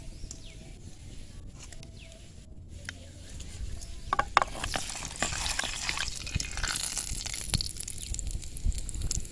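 Mustard seeds and urad dal frying in cold-pressed sesame oil, a soft crackle and sizzle that grows denser and louder partway through, with scattered pops and small kitchen clinks.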